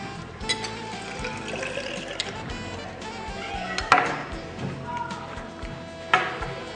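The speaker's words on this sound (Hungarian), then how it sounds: "Most pedig hidrogén peroxid oldatot fogunk a mérőhengerekbe önteni." Hydrogen peroxide solution is poured into measuring cylinders, giving a soft liquid trickle and splash with a few sharp glassy clinks, fairly quiet overall.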